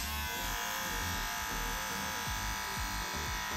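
An old electric hair clipper runs continuously at close range, giving a constant, loud, even mechanical buzz with no talking.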